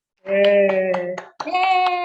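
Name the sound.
class applauding group 1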